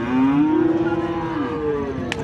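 A single cow moos loudly and steadily at a cattle market in Pabna, Bangladesh, a long drawn-out low call holding for about two seconds, close by.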